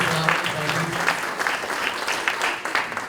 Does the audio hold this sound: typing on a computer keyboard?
no